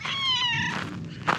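A cat gives one close, clear meow lasting under a second, followed by a short soft rustle.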